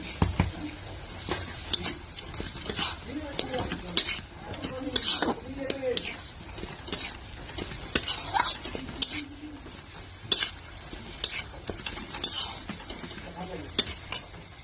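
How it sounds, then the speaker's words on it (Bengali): Spice masala for ghugni sizzles and fries in oil while a spatula stirs and scrapes the pan repeatedly, with clinks of metal on metal throughout, and a voice speaks briefly in the background. "এইভাবে মশলাটা কষিয়ে নেব, হালকা হালকা তেল ছেড়ে এসছে।"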